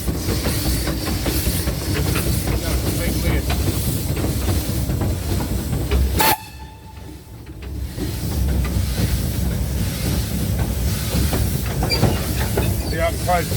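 A small steam train runs with a continuous loud rumbling chug and hiss, broken midway by a sharp whistle-like tone and a brief drop in noise before the running sound resumes.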